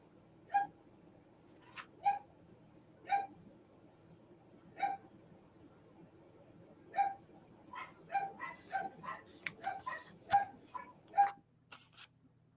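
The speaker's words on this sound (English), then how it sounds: "it sounds like you've got a couple guard dogs on duty now" Two guard dogs barking at home, sharp single barks spaced about a second apart at first, then quicker overlapping yips and barks toward the end, moderately close with a low background hum and no talk.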